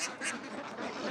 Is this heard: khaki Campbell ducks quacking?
yes